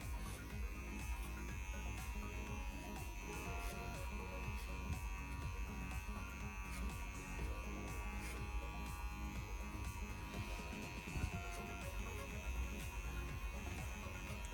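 An electric hair clipper buzzes steadily and quietly as it cuts hair over a comb, with a constant hum and small rhythmic changes in the buzz as strokes pass through the hair.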